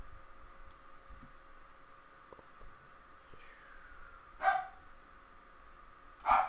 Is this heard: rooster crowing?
no